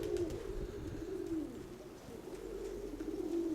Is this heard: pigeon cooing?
yes